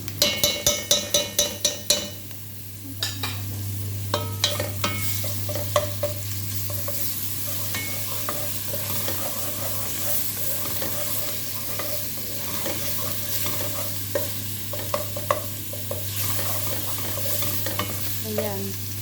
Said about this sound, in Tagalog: Tapos ilagay ko na ang bawang na giniling.